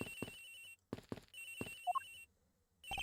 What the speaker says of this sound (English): Mr. Edgeworth, it sounds like the cell phone's in the flight attendant's room, sir